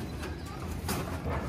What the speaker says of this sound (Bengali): পায়রাটা দেখো